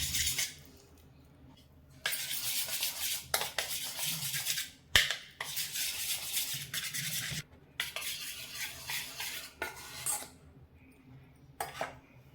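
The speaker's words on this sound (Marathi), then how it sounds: "हे बटर घेते पाव वाटी, ते फेटून घेते थोडं।" Butter and powdered sugar whisked in a bowl for a vegetable semolina cake, heard as bursts of scraping, clinking utensil strokes against the bowl, with short quiet pauses between strokes.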